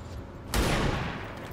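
A single sharp sniper rifle shot at a sectoid in XCOM 2, a sudden loud broadband blast with a rumbling tail that lingers, following a quieter stretch of game ambience, with no voices.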